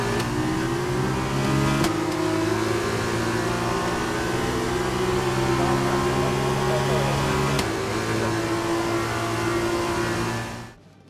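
An F2 Prema race car in F1 2021, its engine humming steadily at idle-to-low revs as it rolls into park, a continuous layered drone with two brief clicks, fading out at the end under a commentator's voice.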